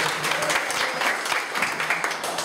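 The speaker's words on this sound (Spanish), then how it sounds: "un aplauso para el Señor" Church congregation applauding, a steady dense wash of clapping hands that holds evenly throughout, fairly close and loud with no talk over it.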